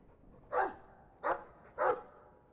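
A Mabari war dog in Dragon Age II gives three distinct barks about half a second apart, loud and close, with a quiet game backdrop between them.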